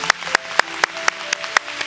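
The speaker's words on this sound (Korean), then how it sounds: "박수 한번 큰 박수 한번 부탁드립니다" At the 10th anniversary concert of Bare the Musical, the audience claps in a steady, evenly spaced rhythm during the photo time, with sustained tones ringing faintly beneath the beats.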